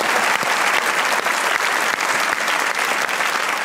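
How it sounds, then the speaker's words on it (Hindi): Studio audience at a Pakistani comedy talk show clapping for guests seated in the crowd, a loud, sustained, even roar of many hands from start to finish with no pauses and no voices standing out. "इनके लिए एक बार तालियां हो जाएं।"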